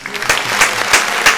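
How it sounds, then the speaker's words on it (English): A studio audience claps for an actor guest on a talk show: brisk, dense applause with regular loud pulses, close and steady for the whole moment. "Everybody, let me give you some applause."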